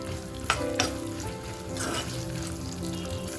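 Mint leaves and green chillies frying in hot oil for a mint chutney, a steady close sizzle with a couple of sharp pops and stirring scrapes near the start.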